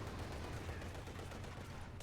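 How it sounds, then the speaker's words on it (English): A field gun fires amid continuous battle noise in the video game Company of Heroes 2, dense rumbling gunfire and blasts that fill the scene steadily. "Field gun away there for GAT."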